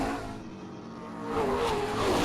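Race cars circling the 3/8 mile oval at Springport Motor Speedway, heard as a steady broad engine roar that swells louder toward the end.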